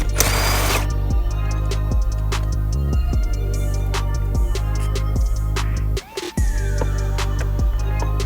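Ratchet with a 10 mm socket unbolting the shifter assembly of a 2024 Acura Integra Type-S, repeated close clicking strokes at an even rhythm, with a brief pause and a metallic clunk near the end.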